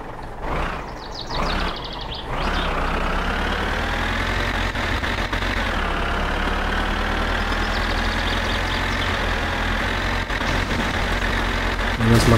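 A tractor engine in the video game My Summer Car runs close and loud, a steady low mechanical drone that shifts slightly in pitch as it idles and then pulls away, continuing evenly throughout.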